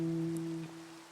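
Two sustained tones ring together as a major third interval played on guitar, a steady held dyad that fades slightly toward the end, fairly close and alone with no talking.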